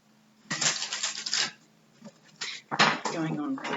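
Tarot cards being shuffled by hand in a quiet room, giving a dense papery riffling and slapping that comes in several bursts with short pauses, close and fairly loud.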